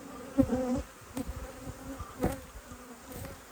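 Healthy honeybees hum steadily near the frames during a late-summer apiary hive inspection, a close, continuous drone with a few louder swells and faint handling noises.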